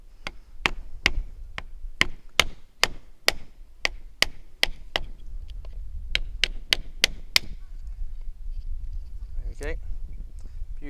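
Repeated sharp chopping cracks of wood being split into small fire-starting pieces with a blade, about a dozen quick knocks in bursts outdoors, with a light breeze behind and a brief dog-like yelp near the end.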